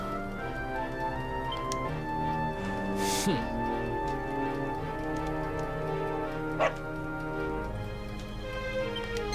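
A dog in the video game Dragon Quest XI barks faintly in a few brief yaps under a steady hum of game music, with a short sharp tick sounding later.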